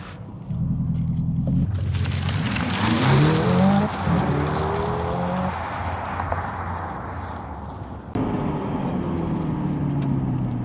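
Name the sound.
Hyundai Ioniq 5 N electric car launch acceleration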